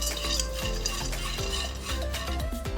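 Peanuts tossed and stirred in a hot pan, a steady loud scraping and rattling with repeated stirring strokes and a faint sizzle underneath, no talking.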